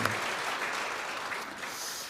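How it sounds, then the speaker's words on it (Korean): Church congregation clapping during a Sunday worship service, a steady wash of applause held at an even level throughout, fairly soft and distant. "그냥 박수하도록 하겠습니다"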